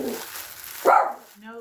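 Luke, a pet dog, lets out a single sharp bark close by indoors, with a person's voice talking just before and after it.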